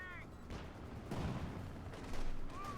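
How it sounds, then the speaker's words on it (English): Battle gunfire in the World War II strategy game Company of Heroes 2, scattered shots and booming reports over a dense rumbling mix of combat noise, with a louder burst of fire near the end. "Shots being opened up here"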